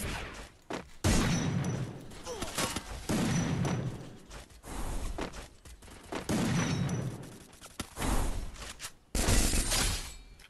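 Gunfire from the Free Fire video game: loud repeated bursts of rapid shots, each lasting about a second, separated by short gaps across the whole stretch.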